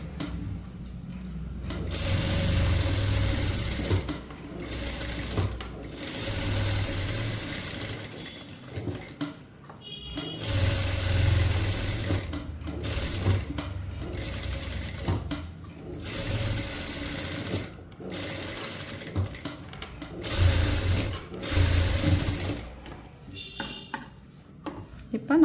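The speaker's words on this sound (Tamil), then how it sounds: "நார்மல் ஸ்டிச்சிங்க்கு அப்படியே தைச்சுங்க." A sewing machine stitching the neck of a blouse, its rapid mechanical whirring running in several long bursts with brief pauses between them.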